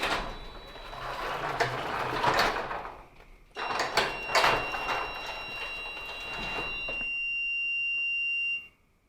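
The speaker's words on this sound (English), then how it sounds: "Press the garage door button." Ryobi garage door opener motor driving the door after a press on its indoor keypad, a close mechanical whir and rattle that pauses briefly, resumes, then settles into a steady hum with faint high tones before stopping.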